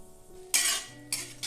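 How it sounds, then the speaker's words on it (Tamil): Grated coconut for coconut burfi sautés in a kadai over low heat, with bursts of sizzling and stirring scrapes starting and stopping in quick succession. The sound is close and moderately loud. "கடாய் காஞ்சிச்சு, தீயை கம்மியாக ஆக்கிட்டு இந்த தேங்காவை போட்டுடலாம்."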